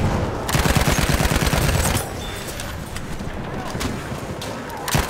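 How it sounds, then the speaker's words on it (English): Machine gun fire in a Battlefield 1 Classic Mode battle, a fast rattling burst for the first two seconds, then scattered distant shots and battlefield rumble with a voice talking over it. "Machine gun over there!"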